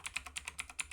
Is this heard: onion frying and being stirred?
no